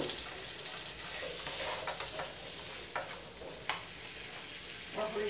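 Pumpkin and washed rice sauté in a pan, a continuous soft sizzle broken by occasional stirring scrapes and clinks of a utensil, moderately quiet and close, with no one speaking.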